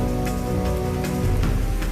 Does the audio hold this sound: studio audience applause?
no